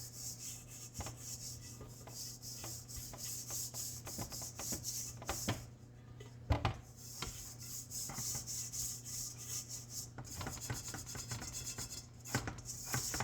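Sticky bread dough is rubbed off the hands into a hamburger bun mix, giving a steady close, dry rubbing and rasping texture with a few sharper scrapes, heard alone without talk.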